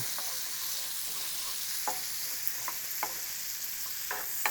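Garlic and capers fry in hot oil in a pan, a soft even hiss broken by light clicks and taps as they are stirred, quiet and steady with no voices.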